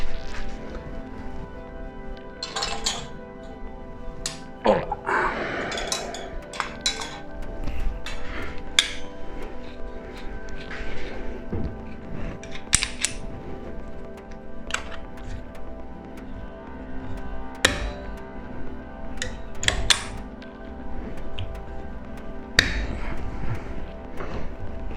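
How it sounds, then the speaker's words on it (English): Mokume-gane metal stack being clamped in a vise in a workshop: sharp metallic clinks, knocks and thuds come at irregular intervals over a steady background hum. "I'm gonna take it in a vise, and we're gonna clamp it."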